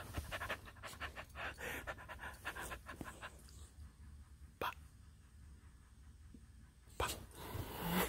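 A dog pants in quick bursts while playing, with rapid close breaths and a few sharp huffs against a quiet room, faint overall.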